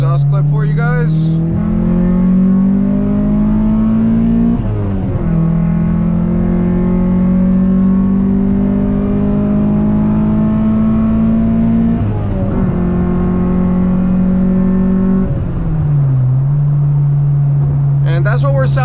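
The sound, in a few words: car exhaust before resonator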